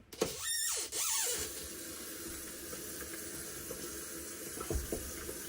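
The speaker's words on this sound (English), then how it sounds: "Now, take our bowl. We're going to put a few drops of water in it." Water runs from a tap into a shaving bowl, a short hissing, squealing gush near the start, then a quiet background with faint clinks and no talk.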